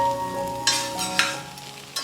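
Chicken noodles are stirred in a hot pan, a steady sizzle broken by three distinct scraping strokes of a utensil across the pan, close and fairly loud.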